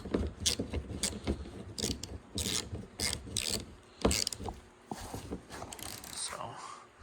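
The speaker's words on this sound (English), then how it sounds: "So I'll tighten the nut back up." A nut being tightened back onto the rear wiper motor of a 2013 Honda Fit, with ratcheting clicks, metallic scraping and rubbing in uneven bursts, close and fairly loud.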